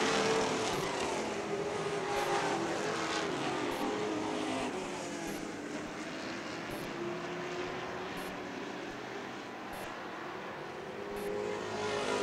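Late model sportsman race cars roar around a speedway with a steady, dense engine drone that swells and fades slightly as the pack circles, continuous through the whole stretch with no talk.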